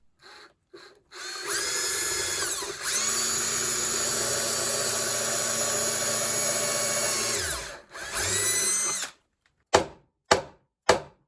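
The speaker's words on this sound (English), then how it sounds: "Here I am drilling through the wood of the center block for the guitar's new grounding." A power drill whines steadily through the wooden center block of a 1963 Epiphone Professional guitar for several seconds, stops briefly, runs again, then ends with a few sharp short bursts.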